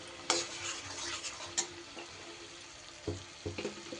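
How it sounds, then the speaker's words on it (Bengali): Cauliflower masala stir-fried in a pan, with spatula scrapes and light clinks over a steady low sizzle, the strokes spaced unevenly and fairly close. "খুব ভালো করে কিন্তু এবার কষিয়ে নিতে হবে।"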